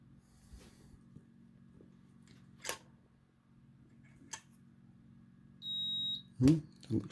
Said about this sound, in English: let's do a quick continuity test